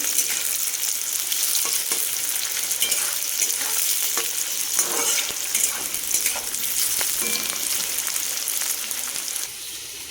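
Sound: onions frying in oil for biryani

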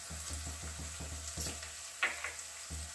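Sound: mixing spices into potato and semolina kachori filling

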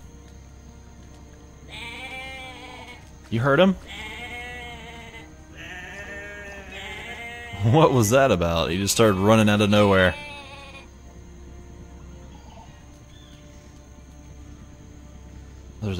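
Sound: goats bleating in video game Jurassic Park: Operation Genesis

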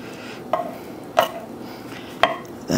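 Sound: knife slicing smoked jerk pork

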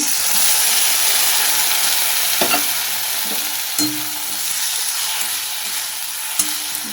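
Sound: stirring mustard-poppy seed paste into frying fish curry masala

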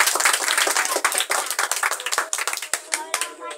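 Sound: audience applause

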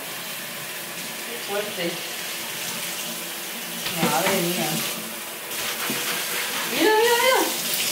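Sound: hot water running from tap while washing

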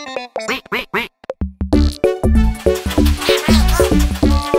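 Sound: cartoon duck Pato quacking in Pocoyo

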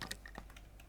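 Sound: computer mouse and keyboard clicking

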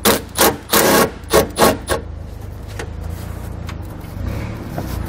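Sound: 10 mm socket wrench removing a ground stud bolt

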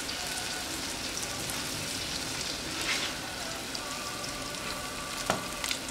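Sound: broccoli frying in oil

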